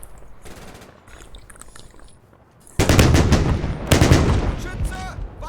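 Machine gun fire in the wartime strategy game Combat Mission Red Thunder, at the Seelow Heights battle: muffled distant firing under a soft voice, then loud close bursts of rapid rattling shots with a heavy rumble.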